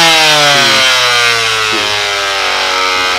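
A Makita BO5041 random orbit sander runs loud and steady on its highest speed setting, a continuous motor whine with a slight shift in pitch partway through and no talking.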